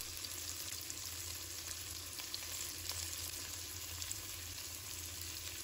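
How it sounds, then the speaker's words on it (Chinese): Tofu pieces, meat-stuffed side down, frying in a little hot cooking oil in a pan over medium-low heat, giving a steady, even sizzle and crackle with faint pops throughout, no voices. "油热后把豆腐轻轻放入锅中里，有肉的一面朝下"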